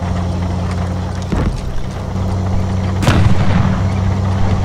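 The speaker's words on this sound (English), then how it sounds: "They have an artillery gun up, I think." Two heavy artillery gun blasts in the Beyond The Wire game's Vimy Ridge battle, loud and booming, about two seconds apart over a steady low battlefield hum, with no talking.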